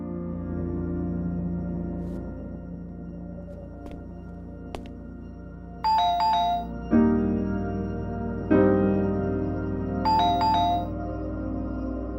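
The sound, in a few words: phone ringtone ringing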